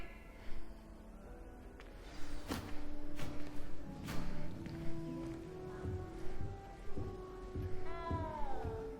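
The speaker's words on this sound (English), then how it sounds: "You don't need to be frightened, little cat." A frightened cat in Hogwarts Legacy gives several short, clear meows scattered over a quiet background, fairly close, with rising and falling pitch and longer gaps between the cries.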